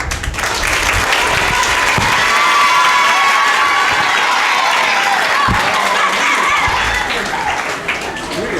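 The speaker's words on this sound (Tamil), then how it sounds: "நல்ல கைத்தட்டு" A large audience at a Tamil debate event breaks into loud, sustained applause with some cheering, dense clapping filling the space and staying strong throughout.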